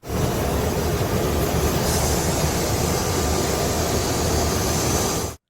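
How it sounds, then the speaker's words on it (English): Steady, loud broadband roar of cabin noise recorded from the back of a commuter jet, constant and unbroken for several seconds before cutting off abruptly. "Here's unamplified video taken from the back of a commuter jet."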